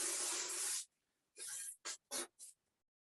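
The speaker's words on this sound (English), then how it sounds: "I'm going through with a bit of dry texturizing spray" Dry texturizing hair spray, a light powder like dry shampoo, hisses from a can during a salon updo: one long burst, then several shorter puffs, close and alone.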